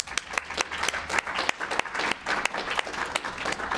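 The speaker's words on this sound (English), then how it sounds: "So I'm going to have us clap for them" Conference audience clapping for the organizers after a talk, a fairly small crowd giving sharp, distinct claps at a steady rhythm, close and lively.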